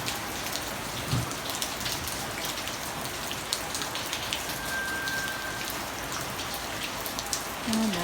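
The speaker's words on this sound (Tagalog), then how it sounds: "Umuulan, sobrang ulan." Heavy rain pours steadily outdoors at night at a work site with heavy equipment in Japan, a dense, even hiss of drops on surfaces that holds throughout with no talking.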